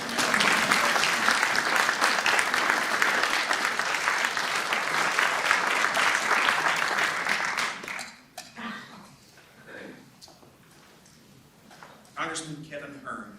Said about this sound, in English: Get a round of applause for that national